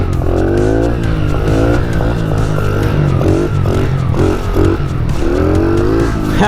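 A Honda Grom motorcycle doing circle wheelies on a lot, its engine revving loud and close with rising and falling pitch sweeps, tire squeal mixed in, continuous throughout.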